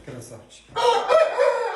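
A young rooster, a heavy cockerel around 4.7 kg, crows once in a loud, strained call lasting about a second, following a brief bit of nearby talk.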